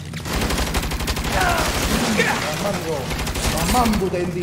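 Rapid bursts of gunfire fill a firefight in the 2022 Saints Row video game, dense repeated shots running the whole time alongside game sound, with voices talking over it.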